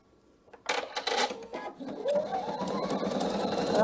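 A PFAFF sewing machine sews a cushion cover, opening with a few clicks before the motor spins up into steady, close whirring and rhythmic needle chatter that rises in pitch and holds.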